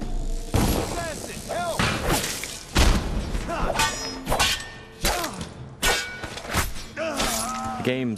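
Sharp metallic snaps and thuds as a spring razor trap goes off in Dishonored, several loud impacts spaced through the passage, ringing clangs and shattering bursts standing out over the game's ambient sound.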